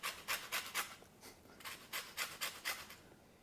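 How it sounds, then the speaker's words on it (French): An untreated lemon zested on a grater for a lemon almond tart, making a rhythmic series of soft, close rasping strokes with a short pause midway. "On va pouvoir zester un beau citron non traité."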